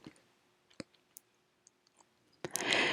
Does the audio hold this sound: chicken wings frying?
no